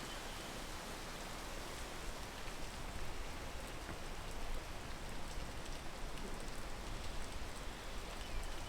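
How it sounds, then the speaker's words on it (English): Steady rain falls in a video game, a dense, even hiss of drops that fills the scene without pause and with no speech over it. "rain is slowly ascending the list of my least favorite fucking mechanics"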